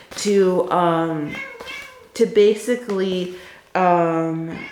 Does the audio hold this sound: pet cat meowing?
yes